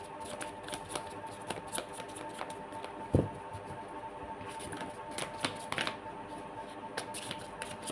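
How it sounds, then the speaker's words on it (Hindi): Tarot cards being shuffled by hand make repeated crisp riffling and flicking bursts in an irregular rhythm, close and soft, with one sharper tap midway and no speech. "हेल्थ के लिए भी मैं 4 कार्ड निकालूंगी"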